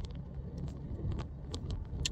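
A car drives along with a steady low rumble of road and engine noise from inside the cabin, with light wind buffeting and a few faint ticks.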